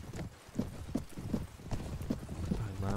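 Horses galloping in the game Mount & Blade Warband, with a rapid run of hoof clip-clops, fairly close and moderately loud, and a faint voice mixed in.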